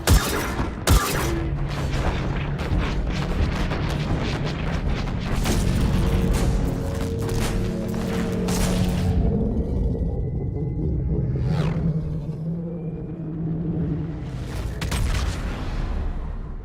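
A large spaceship exploding in the Mass Effect 3 video game, a long roaring boom with deep rumble and crackling debris that slowly fades, followed by whooshing swells.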